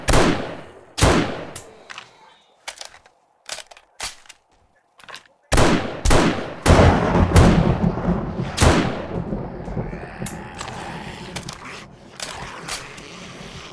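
Gunfire in the video game 7 Days to Die: sharp single shots at irregular intervals, then a denser burst of rapid shots with ringing decay, loud and close.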